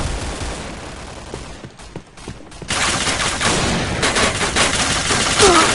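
Gunfire in the Point Blank shooter game, a dense spray of rapid automatic shots that briefly drops away and then returns louder and sustained, continuing steadily until the end.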